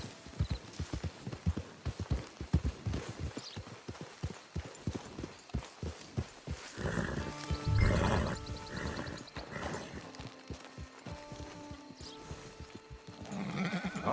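Horse hooves clip-clop steadily along a path in Red Dead Redemption 2, a close, rhythmic trot that carries on throughout while faint musical tones and ambient game sounds rise behind it partway through.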